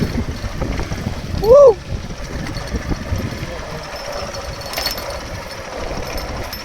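A motorbike engine runs with a continuous rough, rattling rumble, close and fairly loud. A brief tonal beep sounds early on, and talk occurs alongside.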